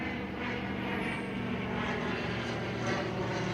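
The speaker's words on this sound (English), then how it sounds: "the plane won't leave me alone" A propeller airplane flies overhead outdoors, its steady droning engine filling the air as a continuous, moderately loud hum with no voices over it.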